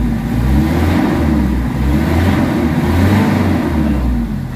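A Mitsubishi Adventure engine suffering from low power revs steadily and loudly at close range, giving a sustained droning roar with no talk over it.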